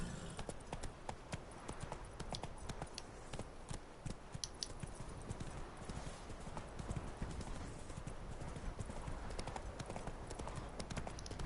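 Roach the horse gallops in The Witcher 3 video game, a steady rapid clip-clop of hooves running throughout, loud and close with a busy, dense texture.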